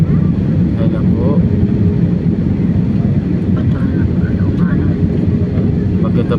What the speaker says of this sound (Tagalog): Maganda flash na yung aeroplano namin. 5J 705 ng Cebu Pacific.